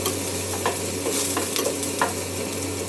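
Garlic rice with onion fries in a pan while a spatula stirs it, giving a continuous close sizzle broken by repeated scraping strokes, with no voices.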